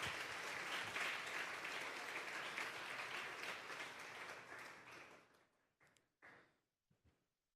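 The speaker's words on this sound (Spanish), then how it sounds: "Denle un fuerte aplauso pues al Señor esta tarde." A church congregation claps loudly through a Sunday service, a dense sustained wave of applause that fades out after about five seconds, leaving a few scattered claps and thumps.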